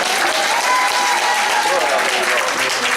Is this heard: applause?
yes